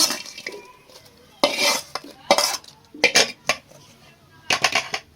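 Fried green chillies pounded in a stone mortar for tamarind pickle, with irregular sharp knocks and clattering bursts separated by quiet gaps, fairly close and moderately loud.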